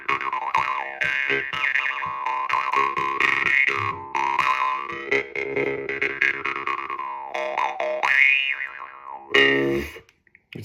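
A Lebbett drymba or Szilagyi doromb jaw harp is played in a twangy, buzzing melody with shifting vowel-like overtones and quick plucked rhythms, loud and close throughout, ending in a brief burst and a pause.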